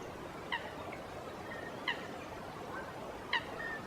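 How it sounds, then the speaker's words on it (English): Three short squawking bird calls spaced about 1.4 seconds apart over a steady outdoor background hum by a lake where lapwings, gulls and cormorants gather, faint and moderately distant. "alive with the squawks of lapwings, gulls, and cormorants"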